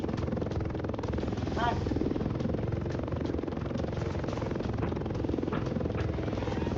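Helicopter rotor chopping steadily throughout in a Roblox war tycoon game, a dense rhythmic thrum with an engine drone that never lets up.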